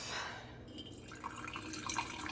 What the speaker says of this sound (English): a very nice pour into the canister